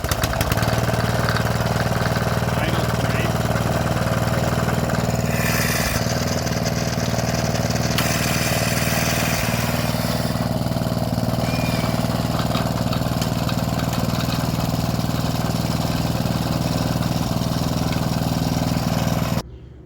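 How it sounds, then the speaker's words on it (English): A rototiller fitted with a swapped-in small engine idles on choke, a steady loud low throb with a constant mechanical drone running unbroken for nearly twenty seconds before cutting off abruptly at the end. "now I'll just give it a quick startup to show you guys that everything is working as it should"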